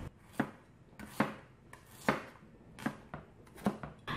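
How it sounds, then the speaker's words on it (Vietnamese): Knife chopping shallots and garlic on a board, six sharp, evenly spaced cuts about one per second, close and fairly quiet with no other sounds. "Mình sẽ thái nhỏ phần hành tỏi ra để mình cho vào máy xay sinh tố, xay nhỏ nhé."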